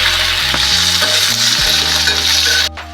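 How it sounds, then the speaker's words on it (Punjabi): Onions frying in a pan while cooking malai kofta, a loud, steady sizzle throughout with a few clinks of a utensil against the pan, cutting off sharply near the end. "ਇਸ ਦੇ ਨਾਲ ਹੀ ਅਸੀਂ ਪਿਆਜ਼ ਪਾ ਦਾਂਗੇ ਪਿਆਜ਼ ਨੂੰ 2 ਮਿੰਟ ਭੁੰਨ ਕੇ"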